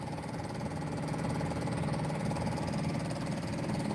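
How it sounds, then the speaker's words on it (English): A steady mechanical hum with a fine, even pulsing runs unbroken throughout, a fuel pump running close by. "You can hear this pump."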